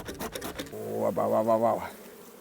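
Honeybees in a freshly opened hive set up a close, steady buzzing drone that swells and holds; a few short rustling bursts come at the start, with no talk.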